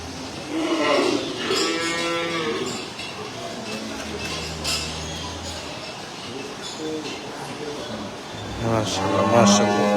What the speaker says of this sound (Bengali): সুন্দর একটা কালো ষাঁড়।